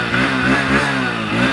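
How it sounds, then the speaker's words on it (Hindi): A Hero Splendor Xtec 125cc motorcycle engine revs under throttle, its exhaust note a loud, steady buzzing drone heard up close with slight rises in pitch. "एग्जॉस्ट नोट सुनो। थ्रॉटल देता हूँ,"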